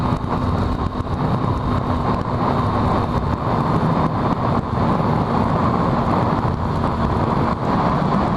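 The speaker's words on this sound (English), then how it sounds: "Seems to be a fair bit of traffic going the other way" Road traffic passes in the opposite direction in Royal National Park, heard from a Daytona 675 motorcycle as a continuous roar of engine and road noise mixed with wind rush.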